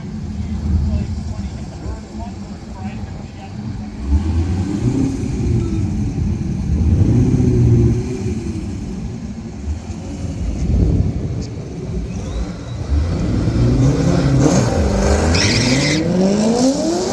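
A C5 Corvette makes a drag strip pass, its engine revving hard with rising pitch sweeps through several gear changes. The sound is loud and close over seventeen seconds, and a voice talks over parts of it.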